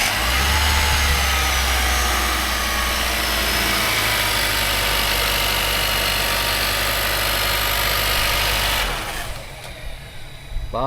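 A Nissan Juke engine, just fitted with a replacement starter, runs at a steady rumbling idle up close for several seconds, then shuts off to a quieter background with faint clicks and handling noises.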